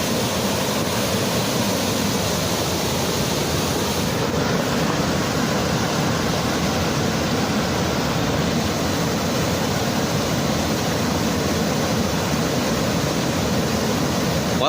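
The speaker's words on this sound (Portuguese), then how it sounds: "Aqui é a cachoeira, pessoal, ó." Waterfall where fishermen cast nets for small piaba fish, a loud, dense, unbroken roar of falling water that holds steady and close with no voices.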